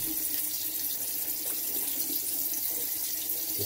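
Cold water runs steadily from a tap into a sink while lather is rinsed off after a shave with a Japanese kamisori straight razor, a close, continuous rushing stream with no talking.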